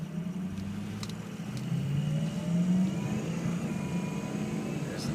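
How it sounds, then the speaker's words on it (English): Diesel engine of a 2004 Ford F250 4x4 pickup pulling away from a stop, a steady low rumble rising as it accelerates, with turbo whine building in the middle before settling into an even drone. "There's the turbo."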